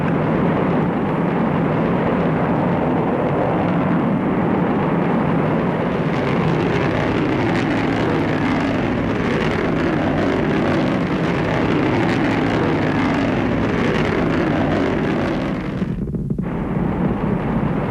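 A rocket engine ignites and launches with a sustained, loud, broad roar that rumbles continuously for many seconds before dipping briefly near the end.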